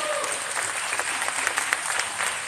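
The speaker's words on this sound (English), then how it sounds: "Round of applause." Audience applause fills a live interview event, with dense, steady clapping throughout at an even loudness and a few sharper individual claps standing out.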